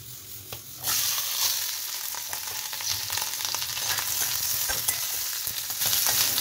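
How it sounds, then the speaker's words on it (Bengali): Grated coconut and eggplant fry in a small wok in a home kitchen, giving a loud, steady close-up sizzle with occasional stirring scrapes throughout. "নিয়ে এখন ছোট কড়া বসিয়েছি, এতে ওই দুটো ভাজা করে নেবো"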